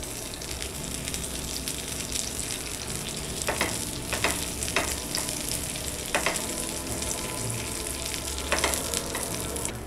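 A cheese naan brushed with garlic butter fries on a pan over a gas flame, making a continuous close sizzle with a few sharp crackles and spatula scrapes.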